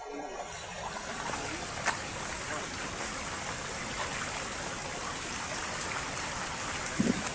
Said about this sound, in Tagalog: Napakataas ng sapa.